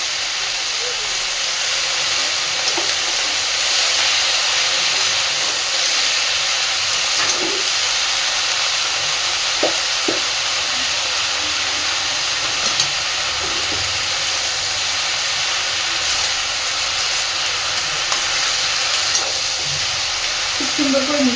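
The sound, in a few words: red spinach and spinach being stirred and fried in a pan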